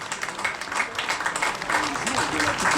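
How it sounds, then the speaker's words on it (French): A crowd at a junior cycling race podium ceremony applauds the Brittany team, producing steady, continuous clapping that runs through the whole moment at moderate loudness. "Et nous applaudissons l'équipe de Bretagne"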